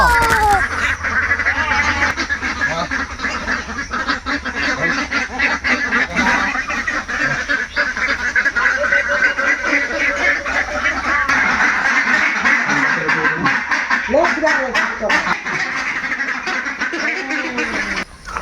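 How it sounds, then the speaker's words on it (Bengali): Ducks quack loudly and constantly at close range as they are caught, a noisy, overlapping flock calling throughout, with occasional scuffling and a voice now and then. "সবার প্রথমে হাঁসগুলো ধরে নিয়ে আসি"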